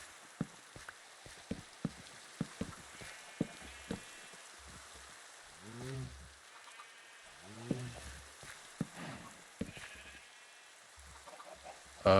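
Minecraft sheep give two short bleats amid sparse clicking game sounds of blocks and footsteps, fairly quiet overall.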